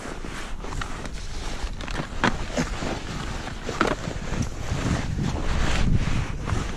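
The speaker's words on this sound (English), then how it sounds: "It's starting to get windy and cold." Strong wind buffets the microphone on a mountain summit in a constant rough roar, gusting louder and softer, with faint crunching steps underneath.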